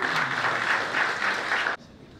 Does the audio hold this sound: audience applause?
yes